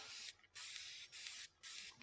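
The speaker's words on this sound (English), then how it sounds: "Are you ready to spray in some water?" A spray bottle mists water onto water-mixable oil paint in four quick, close hissing bursts separated by short pauses.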